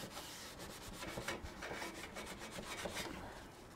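Steady rasping scrubbing of baked-on, air-crisped grease off a Ninja Foodi grill, a continuous close rubbing sound with short repeated strokes, fairly quiet and with no talking.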